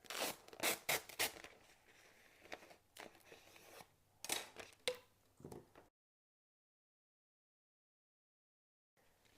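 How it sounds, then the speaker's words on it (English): Transfer tape is pulled off its roll and run across an acrylic strip for Christmas gift tags, giving close, quiet bursts of crackling, peeling and rubbing that stop abruptly partway through and leave near silence. "I'm going to go ahead and get me a piece of transfer tape first, and I'm going to run it across this whole strip."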